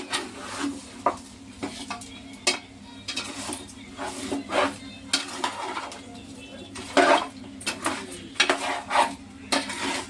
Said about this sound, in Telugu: ఒకసారి ఇలా తిప్పాలి, కలపాలి బాగా